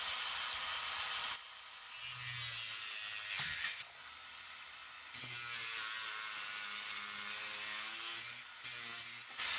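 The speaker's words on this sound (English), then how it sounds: "I'm gonna using Dremel plus the cutter, and gently follow the line" A Dremel rotary tool with a cutting wheel slices through a plastic Mini 4WD chassis part, whining in bursts of a few seconds separated by short pauses and small handling clicks.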